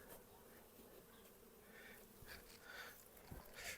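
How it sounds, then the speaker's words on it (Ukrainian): Honeybees buzz around a hive, several insects droning close by with rising and fading passes over a soft background hum. "Дивіться, скільки ось іде бджоли, і вся бджола йде з обніжкою."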